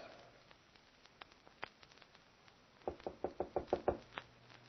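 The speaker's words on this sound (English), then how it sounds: "Open the door, Mary." Knuckles rap on a manor house door in an old-time radio drama, first a few scattered light taps, then a quick, louder run of about eight firm knocks close by.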